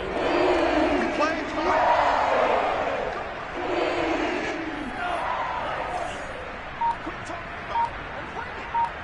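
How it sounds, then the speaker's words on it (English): In a football video game, a stadium crowd roars and shouts in loud swelling waves that later ease off, with a few short beeps near the end. "Plenty of shouts from this crowd as they watch the replay."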